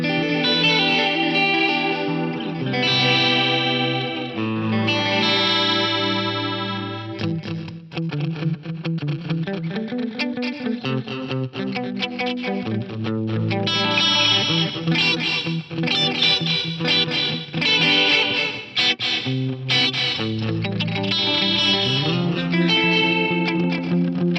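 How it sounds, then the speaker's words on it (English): An Eventide Eclipse effects unit processes an electric guitar through cascaded short delays plus two longer delays, giving sustained chorused, slightly distorted chords and notes that shimmer and repeat for over twenty seconds without any voice. "I've kind of got these like cascaded short delays with 2 longer delays in there"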